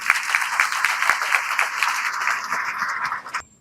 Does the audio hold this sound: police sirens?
no